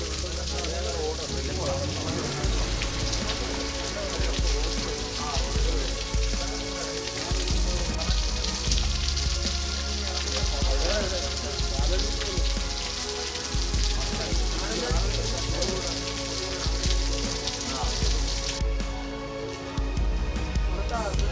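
Choorathala waterfall pouring down a forested hillside gives a steady, broad rushing wash of falling water that runs loud and unbroken throughout, with a voice talking over it.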